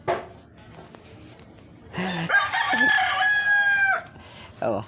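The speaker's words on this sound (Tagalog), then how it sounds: "matapang yung manok na pula, panay ang tilaok." A red rooster crows loudly and close by in one long, drawn-out cock-a-doodle-doo, preceded by brief clucking and followed by another call starting as it ends, in an outdoor setting where lumpia is being fried.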